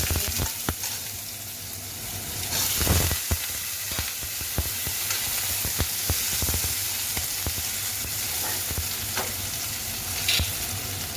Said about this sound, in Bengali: একটুখানি আলু দেবো, তার ভিতরে আলুটা দিয়ে দেবো